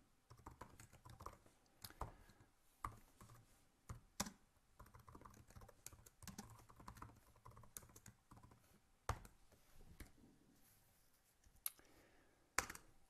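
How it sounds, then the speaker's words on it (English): Typing on a computer keyboard while writing C++ code, with irregular quiet keystrokes, scattered sharper clicks and brief pauses, close and without talk. "Sorry for typing so badly."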